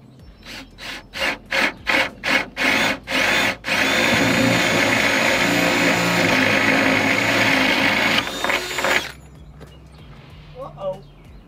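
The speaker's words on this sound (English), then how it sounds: "I'm going to use a 3/4 inch paddle bit to make my hole" A power drill with a 3/4 inch paddle bit bores holes in wood for a subfloor: a string of short, loud trigger bursts, then one long sustained grinding run that stops abruptly, leaving a quiet room.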